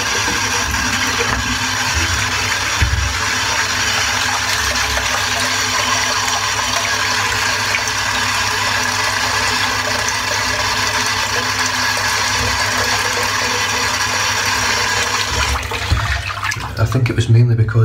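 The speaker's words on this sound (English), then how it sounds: "I just want to get a bit of bottled water in the sink." Bottled water pours into a sink as a steady, close, rushing splash that runs unbroken for around fifteen seconds before tapering off near the end.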